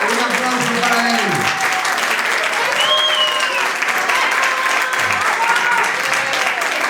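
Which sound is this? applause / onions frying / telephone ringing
applause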